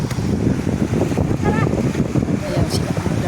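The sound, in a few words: strong wind outdoors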